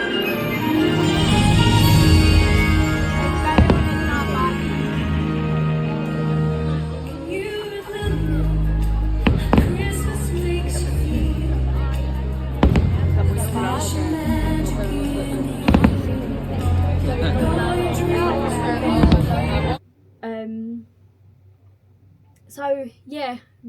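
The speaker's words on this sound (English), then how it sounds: "So yeah, that was the fireworks." A holiday-season fireworks show at Disneyland Resort in Anaheim, California, with booming bursts and crackles under loud orchestral music and narration, then fading to near silence with a brief voice at the end.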